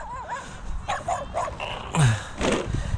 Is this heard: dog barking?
yes